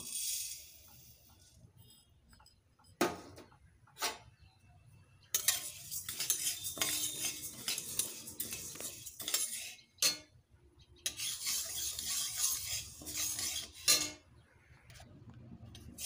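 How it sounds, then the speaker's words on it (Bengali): Mung dal being fried and stirred in a wok on a gas stove: a spatula scrapes and rattles the dry lentils against the metal in busy bursts with brief pauses, close and fairly loud, with a faint sizzle beneath. "এবার কড়াই বসিয়েছি গ্যাসে, মুগ ডালটাকে ভেজে নেব।"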